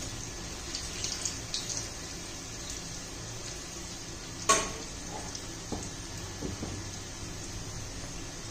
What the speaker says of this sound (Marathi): चांगले तांबूस होईपर्यंत तळून घ्यायचे.